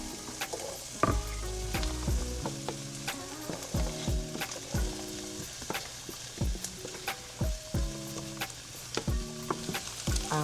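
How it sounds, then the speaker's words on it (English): Jalapenos and green onions sizzling in a skillet, a steady frying hiss broken by repeated clacks and scrapes of a utensil stirring the pan, close and fairly loud with no talking. "I'm placing in the jalapenos and also the green onions into this skillet as well"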